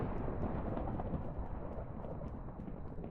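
Thunderstorm in the Minecraft modpack GregTech New Horizons: a steady wash of heavy rain with low, continuous rumbling thunder, loud and even throughout with no talking.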